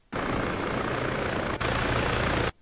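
Helicopter rotor and engine noise from the video game Arma 3, a loud, steady broadband roar that starts abruptly, dips for a split second midway, and cuts off sharply.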